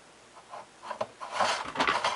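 A potato is shredded on a cheese grater in short rasping strokes that build from soft scrapes to denser, louder rubbing, close-up with no talking.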